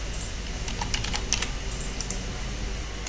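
Typing on a computer keyboard, a quick run of light key taps clustered in the first half, then a couple more taps, heard faintly over a steady background hum.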